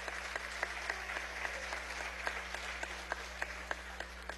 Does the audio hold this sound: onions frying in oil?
no